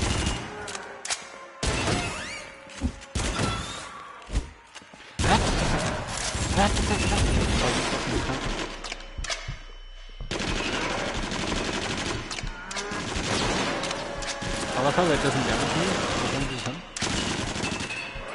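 Bursts of rapid automatic gunfire from a PS4 shooter crackle in dense volleys with brief gaps, loud and close, while a player's voice talks at times over the shooting.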